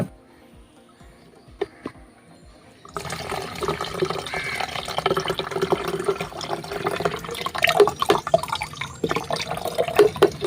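Homemade spray liquid for chili plants with leaf curl is strained and poured into a sprayer bottle: after a quiet few seconds, a steady close splashing and trickling of liquid runs on, with small knocks and drips.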